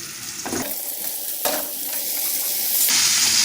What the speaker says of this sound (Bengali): আমি একটু হালকা তেল দিয়ে আলুটা দিয়ে দিব